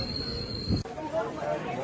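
Indian passenger train rolling near Pedakurapadu, a steady broadband rumble of wheels and carriage throughout with a brief bump midway, continuous and moderately close.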